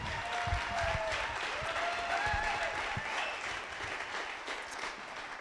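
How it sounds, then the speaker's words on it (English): An audience at an entrepreneur and investor networking event gives a round of applause, soft and somewhat distant, a continuous patter of hands with faint voices and a tonal hum beneath it. "please, round of applause."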